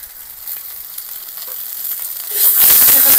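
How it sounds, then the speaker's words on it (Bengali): Spice paste with salt and turmeric frying in a pan, a steady close sizzle that swells louder and harsher near the end as the paste is stirred in, no voices. "মশলাটা ভালো করে কষিয়ে নেব।"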